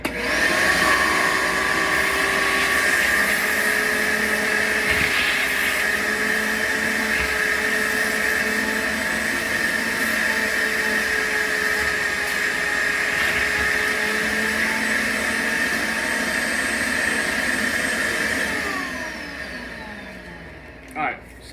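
A vacuum cleaner runs loud and steady with a high whine, straining slightly at times, then winds down near the end with a brief knock.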